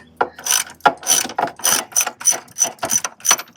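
A ratchet wrench, 9/16 size, turns a bolt on an MGB windshield gasket, a close series of about ten rhythmic clicking ratchet strokes, evenly spaced and alone.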